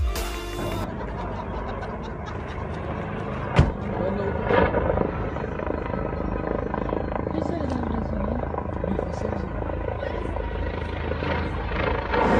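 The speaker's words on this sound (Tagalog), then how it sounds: "nakita nila ang isang helicopter na mabilis na bumabagsak mula sa himpapawid" A helicopter flies moments before crashing near Calabasas, California, a continuous churning rotor drone with a sharp thump partway through, heard under steady narration.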